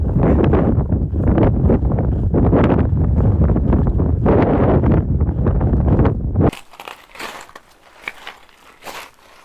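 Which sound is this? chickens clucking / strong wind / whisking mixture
strong wind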